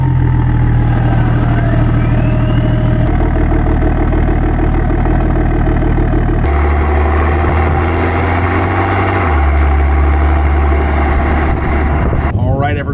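A BMW E90 drives along canyon roads, its engine a steady, loud drone with strong low rumble throughout, shifting pitch a few times as it runs, with a brief rising whine near the end.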